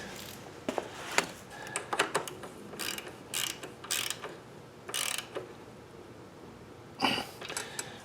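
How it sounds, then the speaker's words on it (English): A 1/2 inch ratchet tightens a carburetor bolt on a Troy-Bilt TB360 lawnmower with a Briggs & Stratton engine, giving close, irregular bursts of quick metallic clicking with short pauses between. "get my 1/2 inch ratchet to tighten that down"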